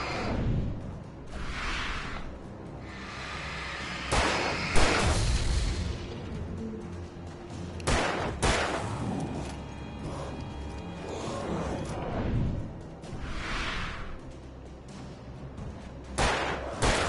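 Gunshots in the horror game Alan Wake, several sharp loud reports spaced a few seconds apart, mixed with whooshing swells and mechanical clatter, no talk.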